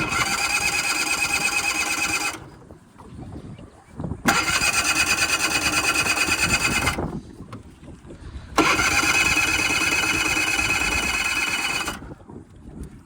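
A project skiff's outboard engine cranks three times in long, rapid bursts of whirring. Each try lasts about two to three seconds, with quiet pauses between, and it never catches.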